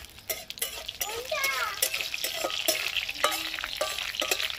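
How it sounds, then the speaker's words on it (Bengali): Tempering spices fry in hot oil in a wok with a loud, close sizzle and crackle, broken by clinks of a utensil, while a voice talks over part of it. "এবার এই ফোড়নটাকে ভালো করে ভেজে নিতে হবে,"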